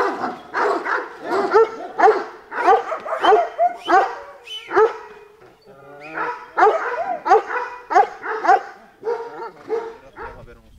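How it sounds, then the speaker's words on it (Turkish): A large dog barks loudly and close by in repeated bursts of several barks, with short pauses and a few higher whimpering yips between them. "Köpek var."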